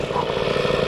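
An MBK 40 Flèche d'Argent moped engine runs close and loud, a steady buzzing two-stroke putter with no break across the short moment.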